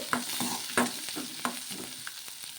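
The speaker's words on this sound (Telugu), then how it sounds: "ఒక ఉల్లిపాయ ముక్కలు వేసుకొని కొంచెం నూనె అయితే వేసుకొని మగ్గించుకుందాము" Chopped onion and green chillies soften in a little oil as a quiet, steady sizzle, with a spatula stirring and tapping the pan in a loose rhythm and no one speaking.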